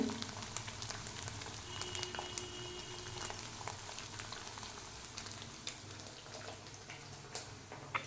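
Butter simmers gently in a pan as it turns into homemade ghee, a soft, continuous bubbling and popping crackle that stays low and even throughout.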